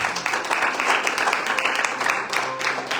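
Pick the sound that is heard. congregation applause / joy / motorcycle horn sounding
congregation applause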